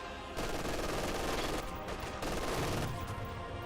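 MG42 machine gun fire in the strategy game Company of Heroes 2, a sustained rapid rattling stream of shots with brief gaps, loud and dense with explosive low-end thumps.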